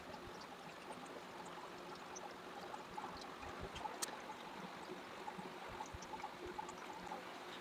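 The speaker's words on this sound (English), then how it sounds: "So the real trick to siphoning this liquid off is to get as much of it as possible without sucking up any significant amount of that fine black powder" Liquid from chemical refining waste being siphoned off a layer of fine black powder that holds gold and palladium-group metals, heard as a steady low trickling, gurgling flow with faint splashes, continuous and fairly quiet.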